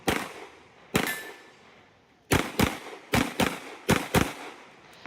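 Gunshots ring out on a practical shooting stage as the shooter moves: two single sharp cracks followed by three quick pairs, each loud and close with short echoing tails.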